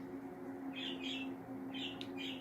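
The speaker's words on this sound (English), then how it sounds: "Excuse the birds in the back." Birds whistle indoors-audible from the background, four short bright chirping phrases in two pairs, fairly faint over a steady low electrical hum, with no talking.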